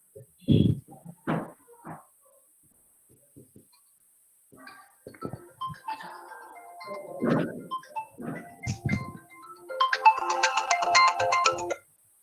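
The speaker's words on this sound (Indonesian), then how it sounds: "Mas Arief, aku lagi ngajar, nanti aku telepon balik ya" An incoming call's phone ringtone chiming in a bright repeating pattern near the end, preceded by scattered thumps, clatter and faint rustling in a quiet room.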